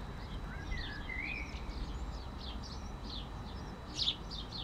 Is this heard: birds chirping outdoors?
yes